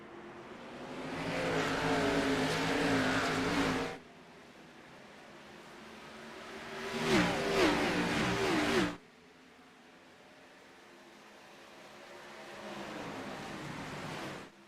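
Xfinity Series stock cars racing at Texas in the iRacing simulator: loud engine roars rise and fall as packs of cars pass in three waves, with a brief quieter gap between each pass.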